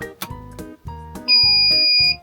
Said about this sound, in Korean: 여기서 삐 소리가 나면서 이제 220이 인가되는 거예요.